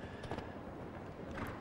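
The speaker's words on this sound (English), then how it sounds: "She's got to gallop to the last." A show jumping horse gallops toward the last fence in an arena at 's-Hertogenbosch, a faint, steady drumming of hooves heard from a distance.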